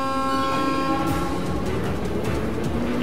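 Train moving in the video game Trails of Cold Steel II, a steady rumbling rail drone with a sustained horn-like tone throughout, loud and continuous with no talking.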